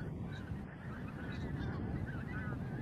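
Wild pink-footed geese at the Montrose Basin Wildlife Reserve honk repeatedly as a large flock, many overlapping calls forming a steady distant chorus with no talking.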